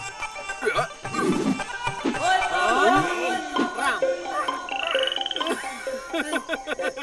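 A man imitates a frog, making repeated croaking, frog-like noises with his voice amid background music and other voices in a comedy scene at a jungle camp.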